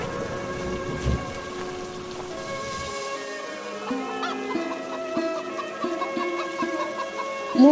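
Rain falling on an evening farm setting in a Bengali cartoon, a steady broadband wash with a low rumble of thunder early on, while soft musical tones play over it.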